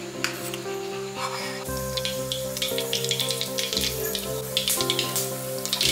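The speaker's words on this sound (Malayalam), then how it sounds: "ഫ്രൈ പാൻ വെച്ച് അതിലോട്ട് കുറച്ച് വെളിച്ചെണ്ണ ഒഴിച്ച് കടുക്, ഉണക്കമുളക്, കറിവേപ്പില എല്ലാം ഇട്ട് വറുത്ത്" Mustard seeds, dried red chillies and curry leaves crackle and sizzle in hot coconut oil for a Kerala-style mango pulissery tempering, a steady close frying hiss with light pops, with no talking.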